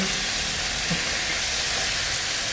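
Squid frying in a hot iron pan gives a dense, even hiss of oil, loud and close, holding steady without pause or voices.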